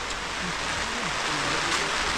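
Steady rain pours down in Daet, forming a continuous close broadband hiss with no distinct drops standing out.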